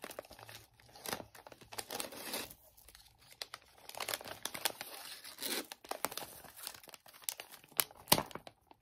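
Christmas gift wrapping paper is torn and crinkled off a package in bursts of close, sharp rustling and ripping, with short pauses between pulls.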